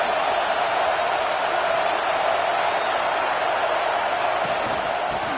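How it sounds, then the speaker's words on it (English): Stadium crowd noise in a Madden football video game, a dense, steady wash of many voices filling the whole stretch at an even level without breaks. "Listen to the crowd energy here in the early going."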